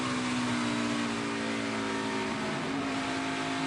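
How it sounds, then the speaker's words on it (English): A race car engine at the 2018 U.S. Cellular 250 drones steadily and loudly with a sustained tonal hum as the driver feathers the throttle, wavering slightly in pitch with no talk over it. "Sadler feathering the throttle."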